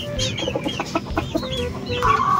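Young chickens around two months old, kept as backyard birds, clucking and peeping close by in a busy, overlapping flock chatter, with a louder sustained call near the end.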